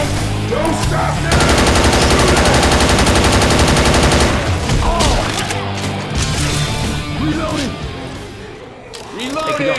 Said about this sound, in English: They're shooting me, man.